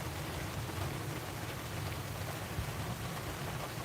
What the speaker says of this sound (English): the rain is proper coming down